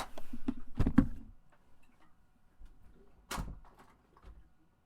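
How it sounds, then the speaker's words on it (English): A door thuds shut with a couple of sharp knocks and clicks, followed by a faint latch click; a quiet room otherwise. "Davina, I'm gonna shut and lock the door if you don't shut the door"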